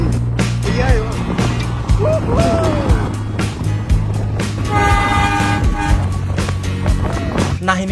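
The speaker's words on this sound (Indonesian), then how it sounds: "Nah ini dia pas aku OTW ke stasiun Bangil balapan dengan kereta api Tawang Alun" The Tawang Alun passenger train, running from Ketapang to Malang, rumbles steadily alongside on the rails on the way to Bangil station, with a horn toot sounding midway. Voices can be heard over the noise.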